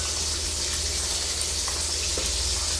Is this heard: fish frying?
yes